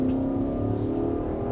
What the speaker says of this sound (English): Gotta love the old school V8 rumble.